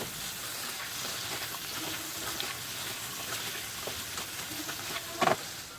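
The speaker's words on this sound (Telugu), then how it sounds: "ఆయిల్లో ఈ ముక్కల్ని బాగా వేగనివ్వాలి." Pieces of bitter gourd fry in oil with a little salt over a medium flame, giving a steady soft sizzle with a brief clatter near the end.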